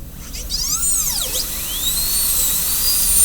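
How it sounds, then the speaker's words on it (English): A dentist's drill with a burr cuts a Class II tooth preparation. Its high whine sweeps up and down, then settles into a loud, steady shrill tone, and no voice is heard. "start with the burr somewhere around in here"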